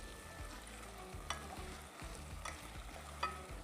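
A spoon stirs a curd mixture in a cooking pot, producing soft repeated scraping and light sizzle-like swishes, close and quiet with no talking.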